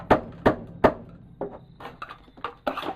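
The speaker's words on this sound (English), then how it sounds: "If you get a stubborn section, you can just bang it with a hammer" Three sharp, loud hammer blows in steady rhythm knock a stubborn section loose on a restoration project, followed by lighter scraping and tapping knocks close by.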